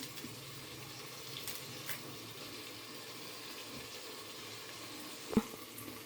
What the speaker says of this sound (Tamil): இப்போ இந்த புதினா கொத்தமல்லியை போட்டுறேன்.